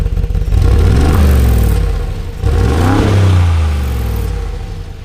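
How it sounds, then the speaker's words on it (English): A Brabus G-Wagon in comfort mode, its engine revved up loudly and close by twice, with each rise and fall of the revs clearly separated by a short dip. "let me just rev it here because we're in comfort mode"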